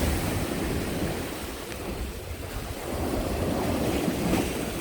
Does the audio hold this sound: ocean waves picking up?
yes